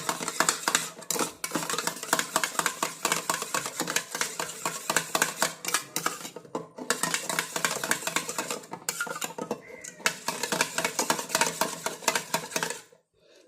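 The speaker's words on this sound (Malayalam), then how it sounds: "ഒരു സ്പൂൺ ആവണക്കെണ്ണ അങ്ങ് ചേർത്ത് നല്ലപോലെ" A spoon mixes a spoonful of castor oil in a bowl, making steady, continuous clinking and scraping against the bowl that runs almost without a break and stops abruptly at the end.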